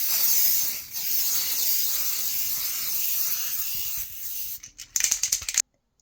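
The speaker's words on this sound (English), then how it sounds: "spray some sparkle to seal it" Sparkle sealant sprays from an aerosol can onto a napkin-decoupaged Lazy Susan in a loud, continuous hiss of several seconds, followed by a few rattling clicks before stopping.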